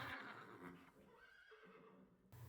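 Horses whinny loudly in an audiobook sound effect, a drawn-out rising and falling neigh close by, with faint hoof clatter beneath.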